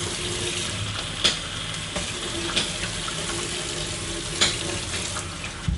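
Water pours steadily into a pot of mutton chops curry seasoned with Madras curry powder, a continuous splashing stream with a few small clinks.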